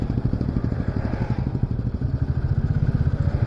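A motorcycle riding along a mountain road between high hills on the way from Siliguri to Gangtok, its engine a loud, close, steady rhythmic thrum with wind and road clatter.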